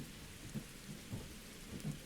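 Rain and distant thunder in a cozy cooking video game set on a magical train, with soft steady rainfall and a few faint low rumbles, quiet overall.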